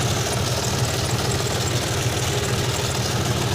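A John Deere D series tractor engine runs steadily in third gear, a loud, continuous low rumble with an even mechanical knock throughout, no voices over it.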